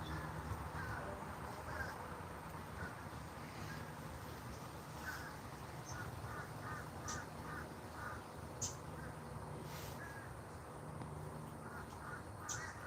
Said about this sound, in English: There's like a bunch of crows